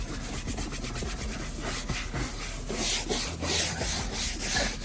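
A brush scrubs car interior vinyl with leather shampoo in close, rapid back-and-forth rubbing strokes, a steady rhythmic scratchy swish that grows a little louder toward the end.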